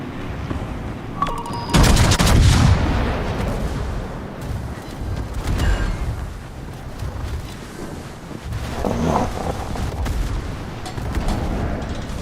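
Warship guns firing in the World of Warships video game: heavy booming salvos over a constant roar of wind and sea, with a big blast near the start and duller rumbles later.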